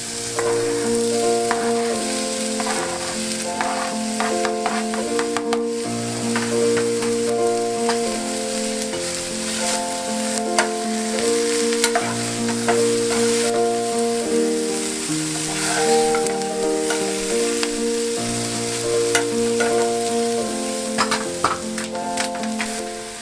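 Corned beef and Brussels sprouts sizzle together in one pot over low heat, a continuous crackling fry heard beneath steady background music.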